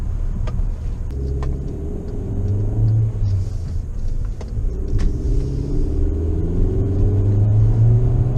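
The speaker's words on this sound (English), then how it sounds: "Rolling some boost here." The turbocharged engine of a 2017 Volkswagen Jetta TSI pulls under boost, a steady loud rumble from inside the cabin that rises gradually in pitch as it accelerates.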